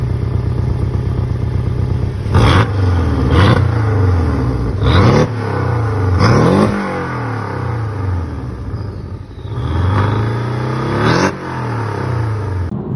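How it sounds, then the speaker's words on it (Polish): A Porsche Boxster 718 GTS with a 2.5-litre engine and aftermarket exhaust idles loudly and is revved in several sharp blips, each rising and falling back to a rumbling idle, heard up close with no talk. "jak chłopaki zrobili ten wydech i zamontowali i odpalili samochód, nagrzali i przegazowali"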